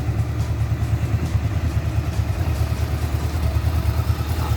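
A 2009 VFR800 VTEC motorcycle engine with a stock, unmodified exhaust idles close by with a steady, low, throbbing rumble and even pulsing beat, moderately loud, with no one talking.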